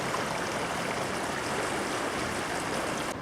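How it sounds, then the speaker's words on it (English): A fast-flowing river rushes under a bridge in Berkshire as a steady, full broadband roar of water that stays constant and fairly close, with no voices over it. "River's certainly moving here at a rate of knots"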